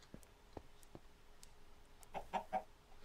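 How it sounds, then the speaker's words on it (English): A chicken in modded Minecraft (Feed The Beast), several short throaty clucks in a quick burst near the end, following a few faint clicks in a quiet setting with no talk. "I guess that's a chicken noise"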